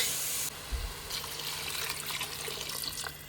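Water pours steadily into a pot of chicken kulambu gravy from close by, a continuous hissing splash with a soft thud near the start, no talking.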